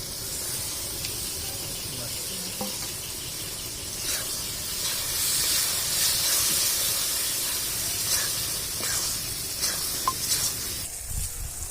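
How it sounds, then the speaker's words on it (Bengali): Tomatoes and a little water added to chicken frying in spiced oil in a pan, producing a loud continuous hiss and steam that swells and then eases, with occasional clatter and a voice speaking underneath. "এবারে টুকিয়ে রাখা টমেটোগুলো দিয়ে দিচ্ছি আর একটু জল দিয়ে দিচ্ছি"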